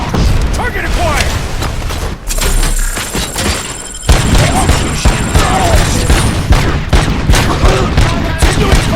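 Rapid gunfire bursts with heavy booms and mechanical clatter in the RoboCop: Rogue City video game, loud and sustained, with an electronic tone running above the shooting.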